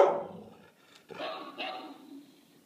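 A dog gives a few short barks and yips, close and moderately loud, in a brief burst at home while a talking question toy plays.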